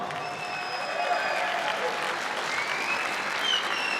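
Crowd applause at a grappling event for both fighters after a bout that went the distance, steady dense clapping with some whistles and cheering rising through, loud and continuous throughout.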